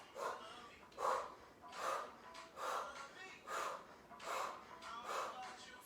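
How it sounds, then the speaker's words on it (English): Heavy, controlled breathing during a barre workout, with sharp rhythmic breaths repeating roughly every second, close and moderately loud. "You can hear me breathing because I'm activating that transverse."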